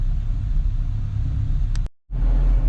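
A 1972 Chevrolet El Camino engine running while driving, a loud steady low rumble with a brief dropout near the end before the drone returns.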